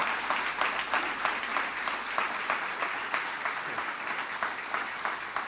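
Church congregation applauding during a Sunday service, a steady, dense wash of clapping from many hands that fills the room without letup, with no voices standing out.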